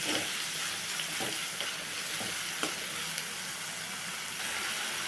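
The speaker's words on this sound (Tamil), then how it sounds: "தேவையான அளவு உப்பு போட்டுக்கலாம், கிளறி விட்டுக்கலாம்." Semiya kichadi stirred in a frying pan, a steady broadband sizzle with soft scraping strokes of the spoon recurring throughout, close and continuous, with no talking.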